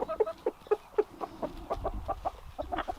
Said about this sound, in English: We have our silkies, our little fuzzy friends.